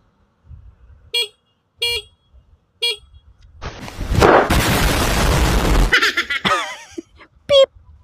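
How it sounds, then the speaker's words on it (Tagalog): A motorcycle horn gives three short, evenly spaced beeps, followed by a loud, rough burst of noise and one more brief toot near the end. "Ito yung busina niya. Pakinggan nyo mabuti yung busina, ha?"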